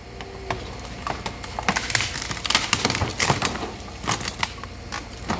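A car is crushed at a scrapyard, giving a rapid series of sharp cracks, crunches and splintering snaps that keep going throughout, close and fairly loud.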